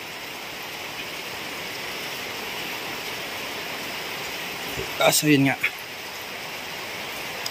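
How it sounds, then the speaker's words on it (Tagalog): Rain falls steadily outdoors near a house and garden plants, a constant soft hiss, briefly interrupted by a short spoken phrase. "Umuulan na naman"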